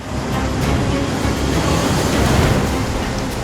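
Rough sea waves whipped up by Typhoon Bavi make a dense, continuous roar of surf and wind, loud and unbroken throughout, with no voices.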